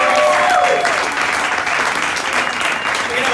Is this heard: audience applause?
yes